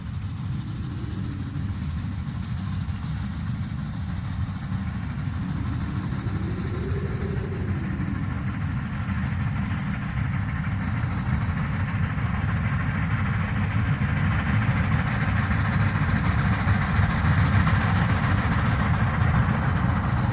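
A Shay geared steam logging locomotive hauls a photo special train through a blizzard, a steady low rumble and mechanical churn continuing unbroken at moderate distance, with no talking.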